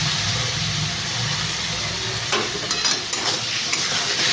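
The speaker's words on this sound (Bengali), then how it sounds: "দিয়ে মশলাটাকে একটু কষে নেব।" Spice paste stir-fried in a wok-style pan with a little water for a Bengali potato curry, a loud continuous sizzle and hiss broken by a few stirring scrapes near the end.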